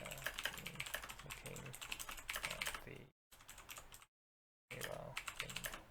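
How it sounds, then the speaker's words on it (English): Rapid keystrokes clatter on a computer keyboard during a SolForge card game session, close and crisp in quick bursts, broken by two brief silent gaps. "I'm typing this quicker"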